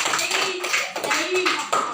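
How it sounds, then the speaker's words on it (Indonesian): Scattered hand claps from a classroom group of children applauding a classmate, a short uneven burst of a few quick claps mixed with chatter. "Tepuk tangan dulu untuk Gerald."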